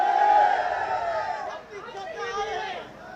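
Dense crowd chatter and murmuring voices fill the air at an outdoor election campaign rally during a by-poll in Madhya Pradesh, a steady hubbub of many people talking at once, fairly loud throughout.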